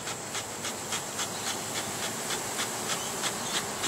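Honey bees buzz at an opened hive that is preparing to swarm, a dense, steady drone close by with a faint rhythmic pulsing running through it and no talk.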